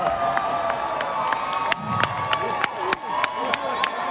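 A crowd at a live comedy show cheers, whoops and claps in a loud, lively burst, with sharp individual claps scattered through the noise of many voices.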